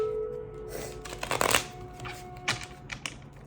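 A deck of tarot cards is shuffled in a few quick riffling bursts, crisp papery flutters and snaps close to the microphone, with brief pauses between them and no talk.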